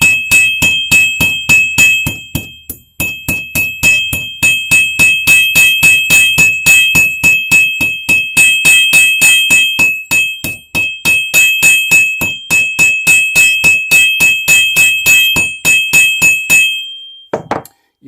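Steady rapid hammer blows ring on hot metal as a musket part is drawn out at the forge, a dense rhythmic series of loud clanging strikes with brief pauses, ending in a short lull.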